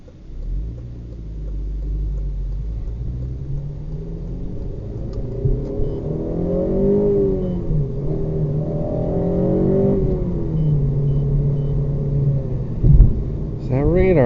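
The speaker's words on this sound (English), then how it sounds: "See if we can hit some early VTEC now" A 2008 Honda Civic Si engine climbs in revs from the driver's seat, a rising and falling intake and exhaust note sweeping upward in pitch through two pulls, with talk heard over the engine.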